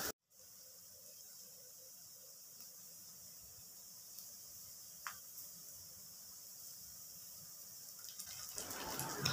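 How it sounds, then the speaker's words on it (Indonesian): Onions and bird's eye chili fry in a pan, producing a faint, steady sizzling hiss that holds evenly and swells slightly near the end, with no voices. "Goreng-goreng ke semuanya."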